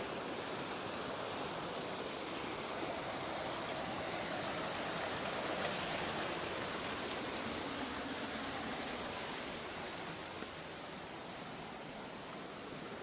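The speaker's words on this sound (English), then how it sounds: "I want to show you" Steady, full broadband rush of a creek running close by in Tennessee wilderness, constant throughout with no voices.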